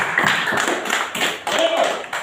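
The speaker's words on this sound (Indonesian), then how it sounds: "Kita tepuk tangan untuk Ina dulu." A classroom group clapping for a student during a lesson, with short uneven bursts of hand claps that stop and start under a teacher's talk.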